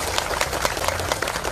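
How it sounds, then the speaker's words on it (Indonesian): An audience at a political gathering in a meeting hall claps together in a dense burst of applause, steady and fairly loud throughout. "kita berikan tepuk tangan sebagai tanda terima kasih"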